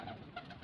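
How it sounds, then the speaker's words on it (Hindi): Breeder pigeons coo softly in a loft, a few low rolling calls repeating over about a second, faint and close with no talk. "ब्रीडर कबूतर है ना"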